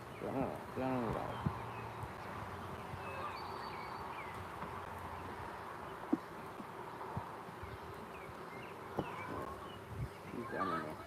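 Honeybees buzzing around an open hive during an inspection, a continuous soft hum close by with occasional knocks and handling noises.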